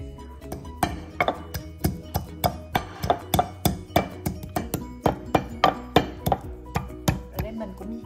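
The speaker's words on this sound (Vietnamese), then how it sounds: "Bây giờ trước tiên mình sẽ cho cái phần tỏi cũng như là ớt vô trong đây mình giã nha." Garlic and chili pounded with a pestle in a mortar for Thai papaya salad with salted crabs, a steady rhythm of about two dozen sharp, close thuds with a faint clink on some strikes, no talk.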